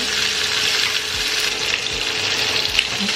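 Chicken skin fries in a pot until browned, giving a steady, close crackling sizzle with a few soft stirring knocks underneath and no voices.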